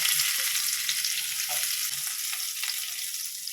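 Crushed garlic frying in a pan of oil, a continuous bright sizzle heard up close with a few soft stirring sounds underneath, no speech.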